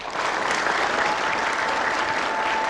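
A studio audience on a televised talk show applauds a guest, steady dense clapping that starts abruptly and holds at an even, loud level throughout.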